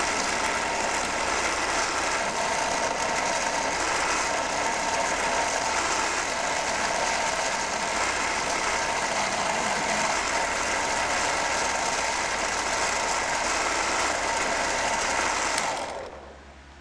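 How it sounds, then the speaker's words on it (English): A motorized buffing wheel polishing a hidden-tang knife blade with green compound, producing a steady loud whirring grind that runs continuously and then winds down at the end. "So now we can buff it with some green compound."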